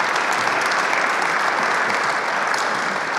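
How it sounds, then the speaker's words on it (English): A seated audience applauds steadily at a policy conversation event with Senator Joe Manchin, dense clapping sustained evenly throughout without any voices standing out. "Give them another round of applause"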